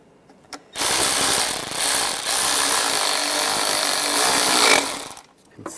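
A power tool drives a bracket bolt tight on a 1996-2002 Toyota 4Runner engine during a knock sensor replacement: one loud, harsh, continuous whirring burst of about four seconds, close by, beginning and ending abruptly.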